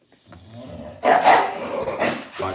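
Puppies growling up close, a low rumbling snarl that starts abruptly after a quiet moment and carries on with short rough bursts.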